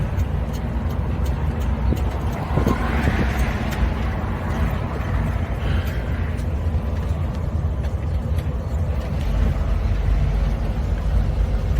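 A Suzuki Samurai under restoration drives along with a steady, loud engine drone and road rumble that stays constant throughout, heard from inside the cab with no talking.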